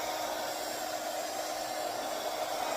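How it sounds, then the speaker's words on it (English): A heat gun blows steadily on a painted hat band as it is shrunk to fit, a continuous broadband hiss, close and loud, with no talk throughout. "It's a heat gun."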